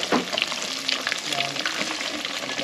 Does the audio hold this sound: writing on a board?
no